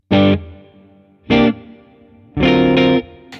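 Electric guitar played through a Fractal AM4 amp modeler with reverb, three bright strummed chords with a rest between each, the last one sustained longer, each ringing out into a short reverb tail.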